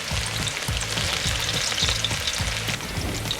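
Chopped onions sauté in hot oil with a loud, dense, continuous sizzle, punctuated by rhythmic scraping strokes of a spatula against the pan, close and with no voices.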